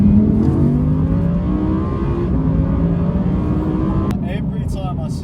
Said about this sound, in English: this car just loves being revved out